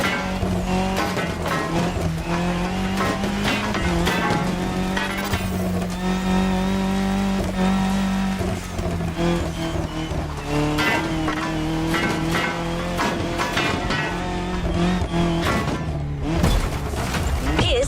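A KTM 450 motorbike races in The Crew Motorfest, its engine whining loudly and continuously, pitch rising and falling through gear changes, with tire noise mixed in.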